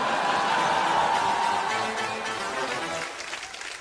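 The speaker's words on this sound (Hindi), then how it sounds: "जोरदार ताली।" Loud studio audience applause on an Indian comedy show, a dense wash of clapping that holds strong and then gradually thins out, no talking over it.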